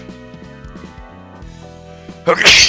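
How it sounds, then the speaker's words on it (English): A person sneezes near the end, a short loud broadband burst over quiet video game music during a Library of Ruina play session. "Sorry, I sneezed."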